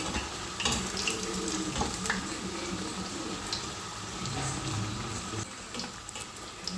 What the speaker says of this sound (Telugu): ఆయిల్లో వేసుకోవాలి. వీటిని దోరగా వేయించుకోవాలి.